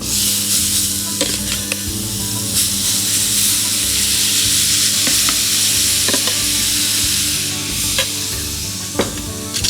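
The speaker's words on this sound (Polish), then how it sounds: "I to pięknie wszystko smażymy." Steady loud sizzling of blended vegetables frying in oil in a pan, with occasional clicks and scrapes of stirring throughout.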